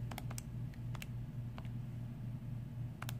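Equations typed into a graphing calculator for an exponential bacteria-growth algebra problem, quiet irregular key clicks in small bursts over a low steady hum, close and faint, with no talk.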